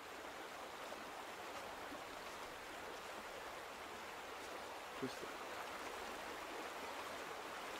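Running water in the video game The Vanishing of Ethan Carter, a steady, even wash of flowing stream noise that holds without a break throughout, quiet and fairly distant, with a small click near the middle.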